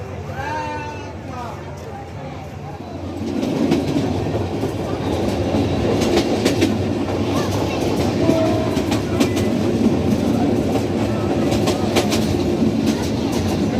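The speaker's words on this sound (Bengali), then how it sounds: "দেওয়ানগঞ্জ থেকে আর কি মানে তিস্তা ট্রেন আসবে" A train passing on a railway line out in the countryside, a loud continuous rumble and clatter of wagons close by that swells after a few seconds and runs on steadily, with a few brief bleats or calls at the start.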